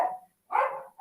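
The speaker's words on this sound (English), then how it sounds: "sorry, there goes the dog again." A dog barks twice nearby during a remote interview, two short, fairly loud barks separated by a brief pause, heard alone.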